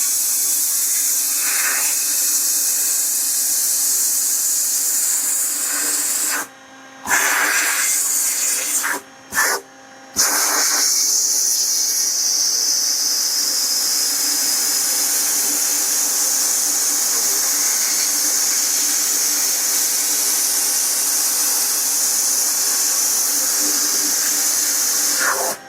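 A booster gun in a dual-gun sandblasting cabinet blasts with a loud, steady high-pressure hiss, cut by a few brief pauses as the trigger is released, then running on continuously.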